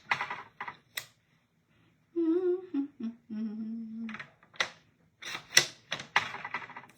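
A paper trimmer slicing through a stamped card: sharp clicks and scraping bursts, a brief squeaky tonal whine in the middle, then more snapping clicks, close and fairly quiet.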